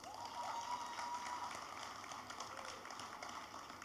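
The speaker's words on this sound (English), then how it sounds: "I think my team deserves a round of applause." Audience applause at a tech accelerator demo day in Lagos, a steady, fairly soft round of clapping from a crowd in a hall, sustained throughout with a few faint voices.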